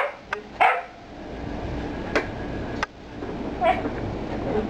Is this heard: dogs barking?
yes